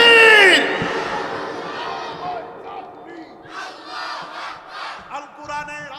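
A crowd at a madrasa religious gathering shouts the takbir together, a loud massed roar that fades into a murmur of many voices and scattered shouts.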